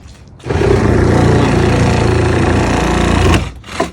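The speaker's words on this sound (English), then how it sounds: "Need some more power out of that damn Sawzall. So we cut it here at the edge." A Sawzall reciprocating saw cutting a junk-removal structure into sections, a loud, steady, harsh rasping roar that starts abruptly, runs nearly three seconds without a break, then cuts off, followed by a short rattle.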